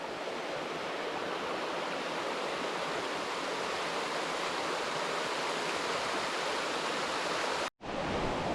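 A brook in the White Mountains of New Hampshire flows in a dense, steady rush of water, loud and unbroken apart from one momentary cut, with no voices.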